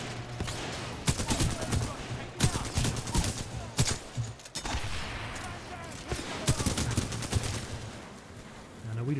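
Gunfire from a slow-firing weapon in the shooter game Titanfall 2, with distinct loud shots in irregular bursts and spaced single cracks over a steady low game hum.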